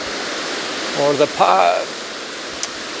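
A cold river runs near the Hraunfossar and Barnafoss waterfalls in Iceland, a steady broadband rush under a brief burst of nearby speech.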